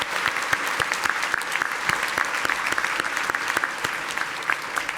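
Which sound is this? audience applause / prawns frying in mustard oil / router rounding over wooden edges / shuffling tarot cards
audience applause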